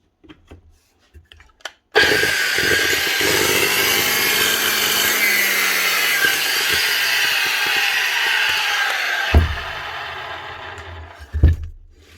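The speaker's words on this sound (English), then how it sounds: "Next up, a Bosch 9-inch grinder." A Bosch 9-inch angle grinder runs up sharply, holding a loud, steady high-pitched whine for several seconds before winding down, with a few handling knocks at the end.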